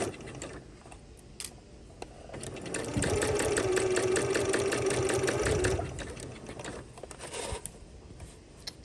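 A sewing machine stitches a pajama shorts waistband at slow speed, a steady mechanical whir lasting a few seconds, bracketed by quieter clicks and fabric handling.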